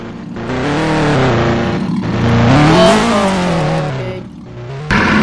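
A Bugatti in a car crash video game revs hard and loud, its engine pitch climbing and falling in sweeping waves before cutting off sharply near the end.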